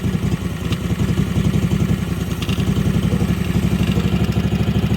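A neglected 1998 Yazoo YTKC22 three-wheel mower with blow-by idles close by after running on bad gas. The engine holds a loud, steady, rough chugging pulse the whole time.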